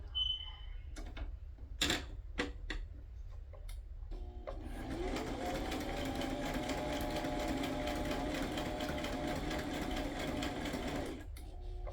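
A sewing machine stitches a paper pocket for a junk journal made from book pages or sheet music. A few clicks and handling taps come first, then a steady, close whirring run of stitching lasts several seconds before stopping.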